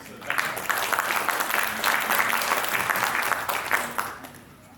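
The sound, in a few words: audience applause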